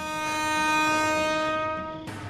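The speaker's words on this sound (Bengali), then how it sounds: "ট্রেনটা আবার চলতে শুরু করল।" A train horn blares loudly and steadily for about two seconds before cutting off abruptly, used as a train-departure sound effect in a horror audio drama.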